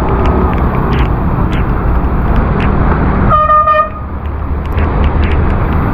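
Heavy traffic on a monsoon-soaked expressway near Lonavala, with a loud, steady wash of tyres on wet road and engine rumble, broken by a sharp car horn blast in the middle.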